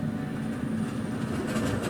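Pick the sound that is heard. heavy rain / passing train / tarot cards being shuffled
passing train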